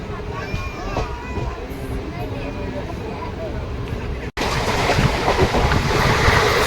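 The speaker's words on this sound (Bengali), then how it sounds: "সীমাচালাম থেকে ছাড়ার পর ট্রেন বেশ ভালো গতিতেই চলছে।" The Visakhapatnam–Bhubaneswar Intercity Express runs at speed after leaving Simhachalam, heard from inside as a loud steady rumble and rushing roar that briefly cuts out and then returns louder, with someone talking over it.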